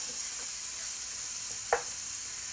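Rinsed, drained canned cannellini beans go into saffron-yellow cauliflower rice frying in a pan: a steady bright sizzle runs throughout, broken near the end by one short, sharp splat.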